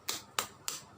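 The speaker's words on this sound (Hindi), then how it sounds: "ये दो उंगली की आवाज़ है।" Two fingers tapping on the palm of a hand, three crisp, close taps evenly spaced about a third of a second apart, with nothing else heard.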